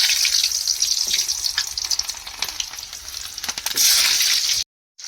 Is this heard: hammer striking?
no